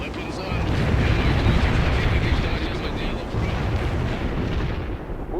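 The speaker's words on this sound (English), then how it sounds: "We have incoming artillery." Artillery barrage rumbling in World in Conflict, a dense continuous roar of heavy impacts and booms, loud and sustained, mixed with battlefield noise.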